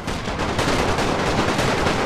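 Rapid, dense gunfire from a Great War battle in a strategy game, continuous overlapping shots and bursts forming a loud, unbroken barrage throughout.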